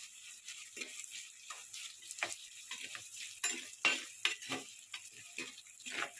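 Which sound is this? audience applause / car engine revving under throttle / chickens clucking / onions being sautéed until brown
onions being sautéed until brown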